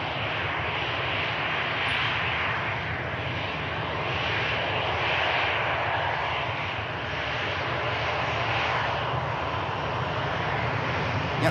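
A Qatar Airways airliner departs Manchester Airport with a loud, sustained jet engine roar that swells and slowly shifts, heard from a distance without pause or talk.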